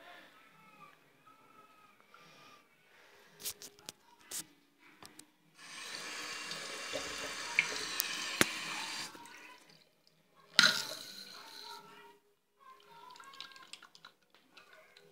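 Water runs from a tap in a steady rushing stream for several seconds, set between scattered clicks and knocks, then ends with a brief sharp splash.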